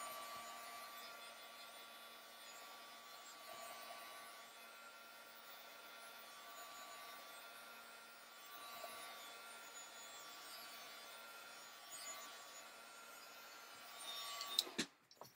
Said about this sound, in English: I'm just going to give it a quick heat set to set that medium into the page.